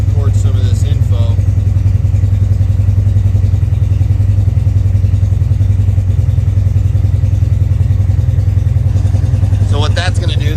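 A Polaris RZR side-by-side engine idles steadily throughout, a loud, constant low rumble with a slight clatter, while someone speaks intermittently nearby.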